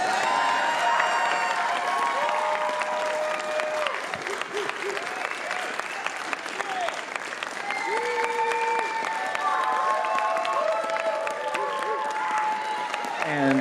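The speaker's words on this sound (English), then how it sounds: "If you keep clapping, it's less awkward." Steady crowd applause fills the whole stretch at a retro gaming expo cosplay contest as the Best in Show winner comes up, with voices talking over the continuous clapping.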